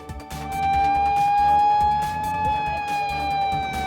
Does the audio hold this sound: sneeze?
no